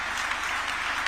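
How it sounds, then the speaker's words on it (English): Brief burst of audience applause for panelists at a celebration event, an even patter of many hands clapping at a steady level with a low hum underneath. "Could you give them a round of applause"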